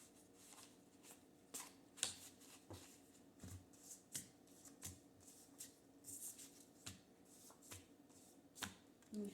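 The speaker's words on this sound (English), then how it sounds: "And then one more shuffle for y'all." Tarot cards being shuffled in quick, irregular riffles and taps, close and fairly quiet, with no talking.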